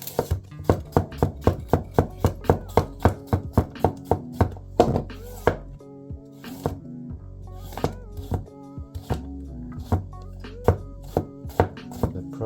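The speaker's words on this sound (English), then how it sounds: "Let's see how it goes through a carrot." A Toyama gyuto knife chops through a carrot on a cutting board, giving a quick, regular series of crisp thunks close by. The rhythm slows and turns uneven partway through, then picks up again.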